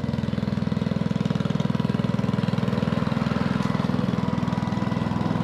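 A Kubota GR2120 ride-on lawn mower engine runs steadily while mowing, a loud, close, even pulsing drone throughout with no talk.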